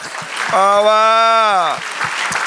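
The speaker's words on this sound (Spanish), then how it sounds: "Aplauso eterno al Dios eterno" A church congregation applauding during a sermon, a steady wash of clapping beneath a loud, sustained voice that rings out over it.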